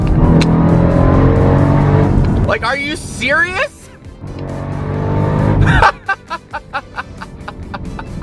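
A Jeep Trackhawk launches hard with a loud, close engine roar and tire squeal, then rapid revving bursts as it pulls away, while a person exclaims over it.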